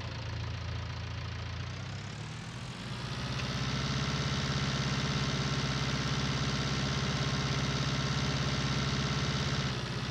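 A New Holland tractor engine idles in Farming Simulator 19, a steady low mechanical rumble that steps up slightly in loudness and then holds constant.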